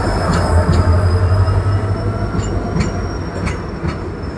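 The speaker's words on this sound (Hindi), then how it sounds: "फाइनली हॉर्न बज गया और हमारी ट्रेन आ चुकी है" A Delhi to Patna train pulls into a station with a steady rumble of rolling wagons and faint wheel squeals and clicks on the rails, heard close and continuous.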